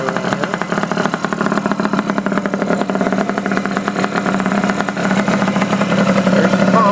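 A Honda Elite 50 scooter engine fitted with a Taida radiator runs steadily at a fast idle, a loud, close, continuous buzzing drone with no pauses.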